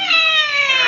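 A feisty pet cat's single long, loud meow plays back from a phone video, close and clear with nothing else heard.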